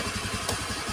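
Automatic scooter engine revving with a juddering vibration, a close, steady mid-pitched motor drone with a rapid pulsing rhythm, alone for about a second.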